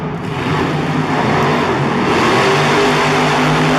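Monster Jam monster trucks racing side by side in a St. Louis stadium semifinal, engines roaring continuously and loudly with a dense rumble and crowd wash throughout.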